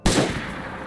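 A single sharp gunshot cracks out in the DayZ video game, loud and close, with its report quickly decaying into a short echoing tail.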